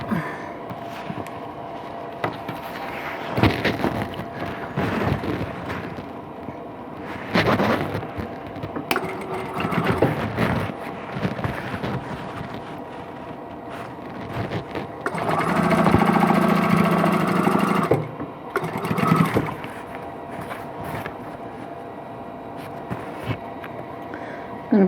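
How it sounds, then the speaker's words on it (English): A sewing machine stitches seams on a quilt block for a Nature's Lodge block-of-the-month project, running in steady bursts with short pauses and some fabric handling between runs, with a louder, sustained stretch near the end. "we'll continue sewing"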